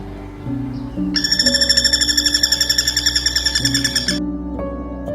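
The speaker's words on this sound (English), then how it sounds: "Woodpecker." A woodpecker call sounds as a loud, rapid, evenly pulsed trill lasting a few seconds, set over a soft background music bed.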